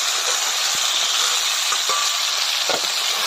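Boiled taro stems poured into hot spices in a pan over a wood-fired stove, giving a steady hiss and sizzle throughout with a few faint clinks, no talking.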